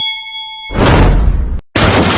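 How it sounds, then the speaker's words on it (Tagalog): A single bright bell ding rings out clearly and sustains with steady overtones, then cuts abruptly into a loud burst of noise. "Bell."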